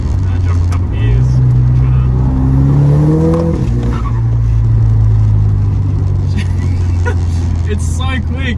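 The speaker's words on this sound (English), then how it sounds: "Drop a couple of gears." A 2008 Volkswagen Golf GTI Mk5 engine rises and falls in pitch as gears drop, loud and close inside the car, with a rev blip and a steady engine drone beneath.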